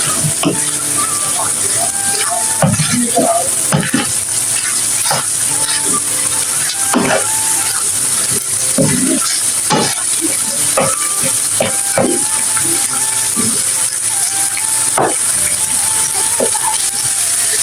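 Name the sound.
minced meat frying on high heat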